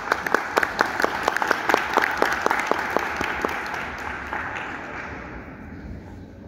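A room of listeners applauds to welcome a doctor speaking on Andean road heritage, a few distinct claps standing out over broad steady clapping that slowly fades.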